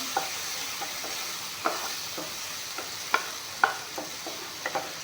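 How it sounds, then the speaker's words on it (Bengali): A paste of ginger, garlic, onion and chili fries in a pan with a continuous sizzle, while a spoon scrapes and clinks against it at irregular intervals, close by. "আদা নহৰু পিঁয়াজ জলকীয়াৰ পেষ্টখিনি দি দিছোঁ এইখিনি অলপমান ভাজি ল'ম"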